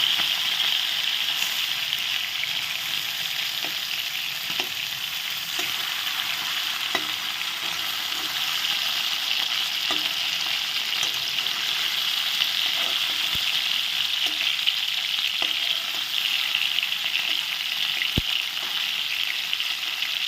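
Steady sizzling of boal fish heads frying in hot oil, continuous and close, with occasional faint clinks of a utensil and no voices.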